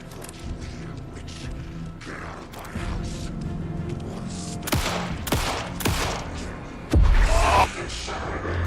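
Gunshots ring out in Alan Wake 2, several sharp cracks spaced irregularly amid tense ambient game noise and mechanical sounds, with a heavy low thud near the end.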